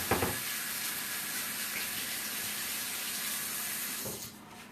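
Hands are washed under a running kitchen tap while cooking, a steady close splashing hiss of water that drops away near the end, with no talking.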